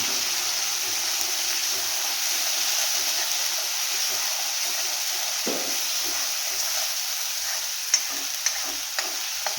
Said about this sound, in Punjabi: ਅਦਰਕ ਲਸਣ ਦਾ ਪੇਸਟ ਜਿਹੜਾ ਵੀ ਆਪਾਂ ਗ੍ਰਾਈਂਡ ਕੀਤਾ ਹੋਇਆ ਹੈ ਇਹਨੂੰ ਹਿਲਾ ਲਈਏ ਥੋੜਾ